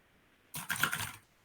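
Clattering keystrokes on a computer keyboard at a desk, with one short dense burst of quick clicks standing alone in a quiet room.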